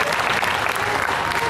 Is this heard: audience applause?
yes